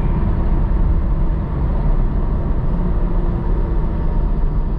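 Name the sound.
BMW 640i Gran Coupe engine downshift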